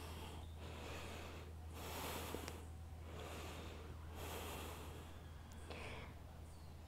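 Soft, airy breathing drifts in long waves during an outdoor yoga lunge twist, several slow inhales and exhales, faint and close, over a low steady hum.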